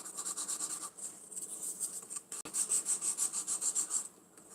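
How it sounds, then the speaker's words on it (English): A 100/180 grit nail file, 180 side, rasps lightly across a fingernail in quick, soft, close strokes, a steady rhythmic run of short scrapes with a brief pause midway. "I'm using the 180 side just to lightly file on the nail"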